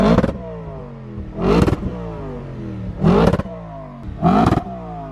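Audi RS4 in dynamic mode, engine revving hard in four sharp bursts with falling exhaust tone and crackle between them, loud and close, no talking.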